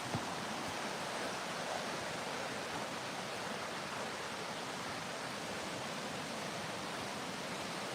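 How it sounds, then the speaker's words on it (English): A set of four waterfalls close together pours as a constant, even wash of rushing water, a soft broadband hiss that never varies, heard alone at a moderate distance. "There's a set of 4 waterfalls all close together"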